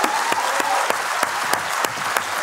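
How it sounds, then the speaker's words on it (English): A big round of audience applause at a design event, steady dense clapping from a crowd with a few sharper claps standing out, carrying on throughout without talk. "That's a big round of applause."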